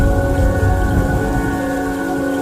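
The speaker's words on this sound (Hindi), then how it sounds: "लगातार दूसरे दिन बारिश हो रही है, तूफानी बारिश हो रही है।" A heavy thunderstorm pours down in a sound effect, with a dense, steady roar of rain and a deep rumble of thunder beneath it, loud and unbroken throughout.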